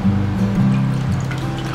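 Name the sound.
tie-dyed cushion cover being put in water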